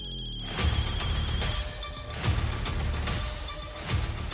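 An old phone rings with a repeating electronic ringtone pattern, several cycles in a row, loud and close, with no talking.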